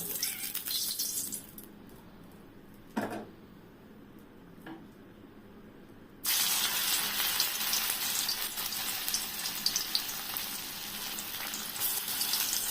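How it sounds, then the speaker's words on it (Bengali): Rohu fish koftas dropped into hot oil in a kadai: a quiet stretch with a couple of sharp clinks, then a loud, steady broadband sizzle that switches on abruptly and continues to the end. No voices. "তেলটা গরম করতে দেওয়া হয়েছে এবার কোপ্তাগুলো এক এক করে ছেড়ে দেওয়া হবে"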